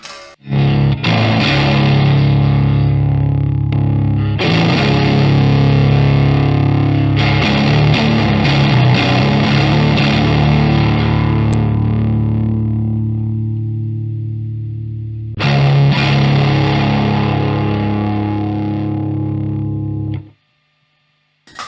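Electric guitar played through stacked gain pedals, a GOD 250 style boost and an Angel Teeth, in a doom/sludge/stoner style, sustained chords ringing out thick and loud with brief pauses between phrases, no talking.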